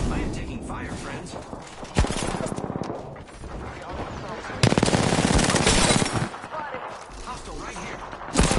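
Loud bursts of automatic gunfire in a video game, sustained rattling volleys with short pauses, while players shout over the shooting.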